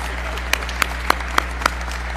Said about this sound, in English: I'm clapping for you, not for me.